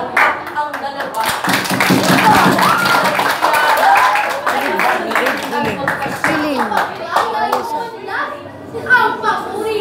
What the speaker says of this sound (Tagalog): Ang hilig ko'y salubungin ng palakpak ang dalawa.